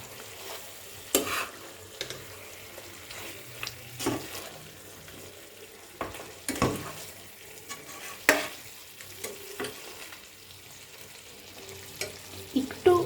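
Methi chicken salted and frying in a pan, stirred with a spatula: a low steady sizzle broken by sharp scraping strokes roughly every second or two, close and without speech.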